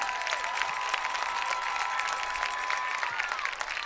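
A crowd in the stands at a high school football game between the Seguin Matadors and Pieper Warriors applauds after an 8th grade band performance, a steady distant wash of clapping with faint crowd noise.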